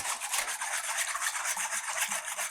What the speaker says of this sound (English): And I'm just going to take the whisk and just mix it up.